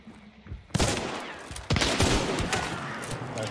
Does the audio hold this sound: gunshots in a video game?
yes